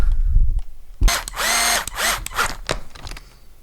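Ratcheting wrench working on parts of a Traxxas X-Maxx RC truck's belt-drive motor mount, in several quick bursts of clicking, near and fairly loud, with no talk.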